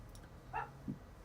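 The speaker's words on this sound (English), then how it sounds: "As soon as I start this, of course, the dog starts barking." A dog somewhere in a home barks twice, with short, faint yips spaced apart against quiet room tone.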